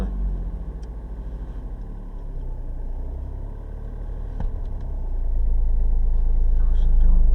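Car pulling away during a driving lesson, engine rumble steady then rising as it accelerates, close and continuous with no talk.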